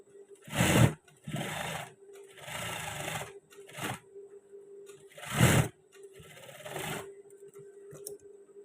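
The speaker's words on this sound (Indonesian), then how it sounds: "kita jahit dari sini juga sampai atas. Kita jahit 2 kali." Sewing machine stitching a seam on long trousers, sounding in several short loud bursts separated by brief pauses, close and without talk.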